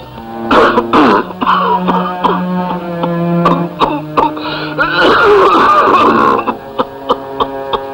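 An old man coughing and clearing his throat in a film scene: a run of rough, groaning coughs and hacking bursts, loud and close, with voiced strain between them.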